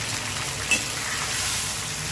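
Onion, tomato, ginger-garlic paste, cumin and coriander frying together in a pan, giving a steady close hiss with a short bump partway through, no voices.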